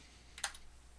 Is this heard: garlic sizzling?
no